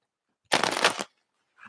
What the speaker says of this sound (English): One more shuffle and we're ready to go.